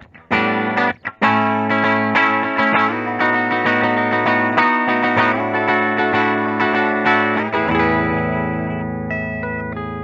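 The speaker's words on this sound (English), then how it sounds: "So for the whole dynamic range, this is what you've got for the bridge." Distorted electric guitar through the bridge pickup of a 1985 Fender Performer, made in Japan: loud sustained chords and riffs with effects, ringing out and decaying toward the end.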